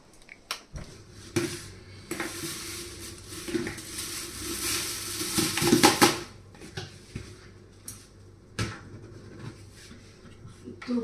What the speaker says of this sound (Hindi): तो बस अब फटाफट पहले बर्तन साफ करेंगे